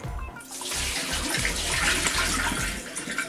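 Basmati rice gets its second wash under running water, a loud, close, steady splashing and gushing that continues throughout.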